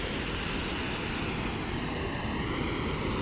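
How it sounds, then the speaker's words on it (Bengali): Water of the Nafakhum waterfall in Bandarban rushes steadily, a broad continuous roar at moderate level with no breaks. "আর এই হচ্ছে সেই নাফাকুমের ঝর্ণা,"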